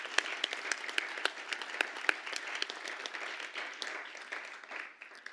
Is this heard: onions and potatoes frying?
no